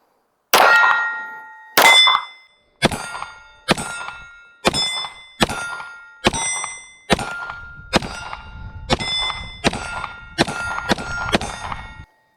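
A full magazine of gunfire from a firearm fitted with a rail-mounted compact weapon light, heard as about a dozen sharp metallic reports spaced roughly one second apart, loud and close, with no talking.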